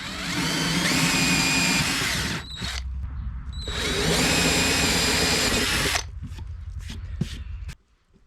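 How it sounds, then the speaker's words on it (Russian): An electric drill with a thin bit whines in two long bursts, boring holes in plastic, separated by pauses, followed by a few short clicks and taps before stopping. "Ну а теперь просверлим вот этих три отверстия под кнопки."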